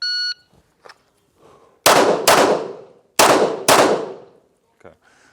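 Handgun shots at a concealment shooting training session ring out as four sharp, loud cracks in two quick pairs with echoing tails, preceded by a brief electronic start beep and light handling sounds.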